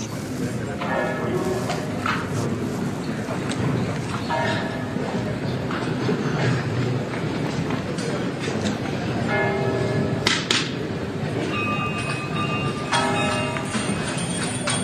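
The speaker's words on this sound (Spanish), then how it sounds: "Ahí está ya la campana de la vela, que cada vez se oye más" A small church bell, the vigil bell of the Parroquia de la Encarnación in Granada, rings in repeated strokes during a Holy Week procession over a dense, noisy crowd and rumbling background, the clangs emerging intermittently and growing clearer later.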